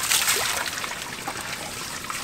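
Water trickling and splashing from broken pool plumbing outdoors at a Memorial Day party, a faint, steady wash of dribbling liquid with no one talking.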